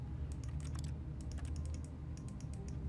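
Rapid keyboard typing in The Stanley Parable video game, a quiet run of irregular clicky keystrokes in small bursts, with no talking.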